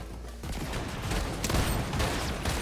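Rapid gunfire from a shooter video game, a dense burst of shots that swells after the first half second and keeps going loud and close throughout, with no talk.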